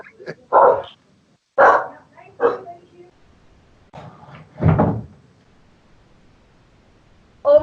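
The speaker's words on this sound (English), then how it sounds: "I have two dogs and they go a little crazy sometimes." Two pet dogs bark in a few loud, close bursts separated by short quiet gaps, with a final bark cut off at the end.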